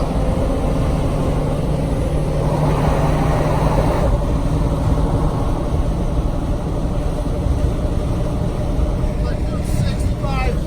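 Inside the cab of a 7.3 diesel truck climbing a hill at quarter throttle, a loud, constant engine and road drone fills the sound, with someone talking over it.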